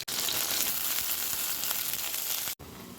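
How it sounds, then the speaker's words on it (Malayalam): Mustard seeds and fennel seeds crackle and sizzle loudly in hot oil left from frying coconut pieces for a chana curry. The sizzle is steady and close, then cuts out briefly near the end before resuming. "ഇനി ഞാൻ ആ എണ്ണയ്ക്കകത്ത് തന്നെ കടുക് ഇടുവാണേ"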